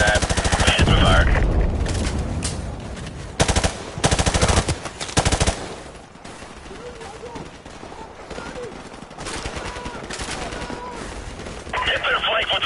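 Machine gun fire rattles in the Modern Warfare video game during a squad breach-and-clear. Loud, dense bursts of automatic shots come and go, with voices shouting in between.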